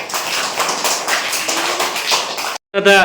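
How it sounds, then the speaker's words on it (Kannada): An audience at a school reading-campaign quiz event claps hands in a dense, lively burst of applause that lasts a couple of seconds, then stops abruptly before a voice begins speaking. "ಚಪ್ಪಾಳೆ ತಟ್ಟಿ."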